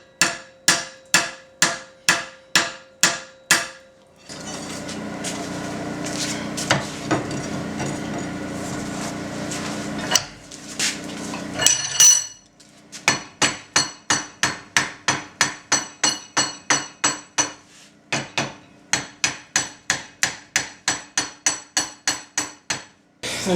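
A hammer strikes hot metal on an anvil to taper it down, in rapid evenly spaced ringing blows in several bursts, broken by a stretch of scraping and rubbing before the hammering resumes.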